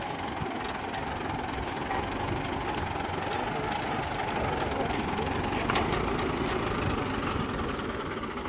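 A Mahindra Novo 655 DI 4WD CRDI tractor's diesel engine runs steadily at idle, a constant rumbling hum with knocking texture, moderately loud, with a voice speaking faintly over it.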